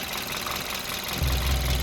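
An aging Hyundai Accent engine idles rough and close, with a steady mechanical rumble and ticking knock that grows heavier and louder near the end, no voices.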